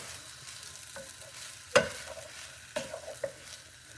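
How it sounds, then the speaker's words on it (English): Filipino pork belly fried rice is stirred and tossed in a hot pan, giving a quiet continuous sizzle broken by a few sharp scraping clatters of the utensil against the pan. "now mix everything together"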